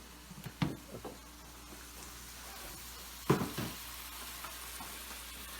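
Eggs frying for fried rice in a pan on lowered heat, a faint soft sizzle with two sharper bursts of clatter and stirring, quiet throughout with no voices.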